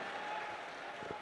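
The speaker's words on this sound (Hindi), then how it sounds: "आपका और हम सब जोरदार ताली बजाकर सीताराम बोलकर बहुत बहुत स्वागत" A crowd at a mass wedding festival in Bundelkhand claps together to welcome a guest, a brief, dense wash of applause heard from a distance without any speech.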